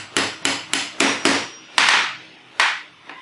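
Pipe parts of PVC tubing being hammered together to build a bead-bracelet loom: a run of sharp, close hammer blows, about seven strikes in a loose irregular rhythm with brief pauses, no talking.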